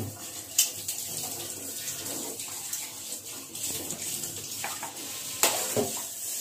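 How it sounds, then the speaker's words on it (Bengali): Soft, steady frying sizzle of pabda fish in a pan with occasional stirring scrapes and a couple of sharper clinks. "পাবদা মাছ ভাজা"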